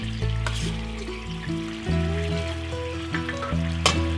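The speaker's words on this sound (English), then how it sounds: "When it starts to boil, add the salmon back to the pan." Salmon simmering in bubbling teriyaki sauce in a pan, a steady close sizzle and bubbling with a few light scrapes and clinks throughout.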